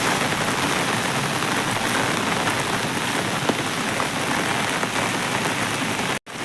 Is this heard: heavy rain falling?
yes